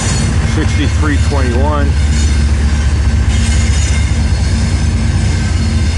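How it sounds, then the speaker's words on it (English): A southbound freight train on the St. Joe sub, with helper locomotives pushing at the rear, gives a steady, loud, close rumble of engines and rolling wagons, with brief high squeals early on and a short spoken number. "this is the helpers at the end of the train pushing as this train continues to head south down the St. Joe sub"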